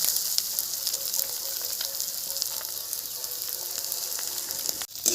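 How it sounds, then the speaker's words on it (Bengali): Local crab frying in a pan: an even, bright sizzle of hot oil throughout, with faint occasional ticks and a short dip near the end before the frying sound returns. "প্রথমে কাঁকড়াটাকে ভেজে নিলাম"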